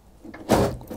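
Car central locking actuator unlocking the door when the key is turned, one brief mechanical clunk up close with a faint click just before it.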